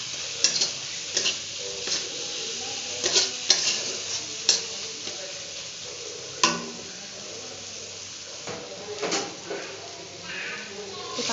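Water hits frying masala in a hot pan with a sizzling hiss, followed by spoon stirring and scraping as someone talks over the cooking.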